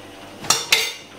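Two quick rattling pours of granulated sugar and salt tipped into a metal pot, each a short gritty rush a fraction of a second apart, close and crisp with no voices.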